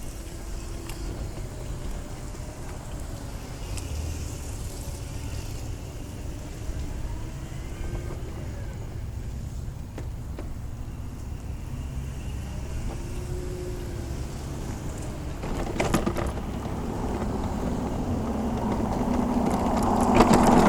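A Permobil M300 HD heavy-duty power wheelchair drives across grass, its electric drive giving a steady, fairly loud hum with a low rumble. The sound rises slightly toward the end, with a brief rustling burst near the close.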